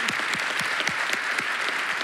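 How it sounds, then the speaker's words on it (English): Applause for the panelists at a Women Deliver conference session: many hands clapping in a continuous, crisp patter, moderately close and unbroken by speech. "And also a good hand of applause for Shiza"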